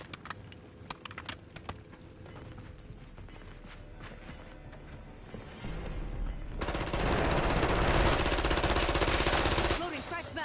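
Rapid machine gun fire in Black Ops 7 Warzone, a dense, loud sustained burst swelling over the second half after scattered clicks and shots, with faint game voice lines beneath.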